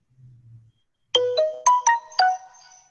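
A melodic phone ringtone chimes out a quick series of bright, bell-like notes, clear and close, after a brief low hum, during a virtual meeting.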